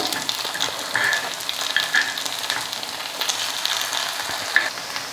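Spicy kara paniyaram batter fries in a paniyaram pan with a steady, close sizzle, broken by a few brief metallic scrapes and clicks from turning the dumplings.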